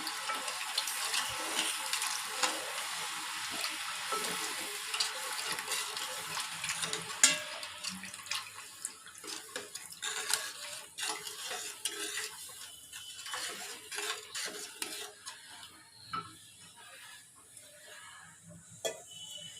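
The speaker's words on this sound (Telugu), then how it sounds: "కొంచెం కొంచెం పోసుకుంటూ ఇట్లా మిక్స్ చేసుకోవాలండి, లేకపోతే ఉండలు కట్టేస్తుంది." Wheat milk is poured little by little into sugar and stirred for halwa. Soft liquid sloshing mixes with repeated clinks and scrapes of a spoon in a pot, fairly faint and close, with no speech.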